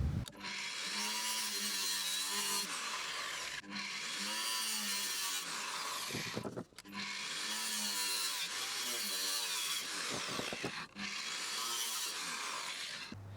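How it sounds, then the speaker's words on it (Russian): An angle grinder cuts through seized bolts on a Malysh or Rucheyok water pump of plastic and duralumin, a loud, sustained metallic whine that runs in long passes broken by brief pauses, with no talking. "и прошу папу, чтобы он болгаркой срезал прикипевшие болты, потому что они не откручиваются гаечным ключом и отверткой"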